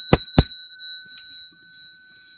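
A small bell struck twice in quick succession near the start, each ring leaving a bright, sustained tone that fades out slowly over a quiet background.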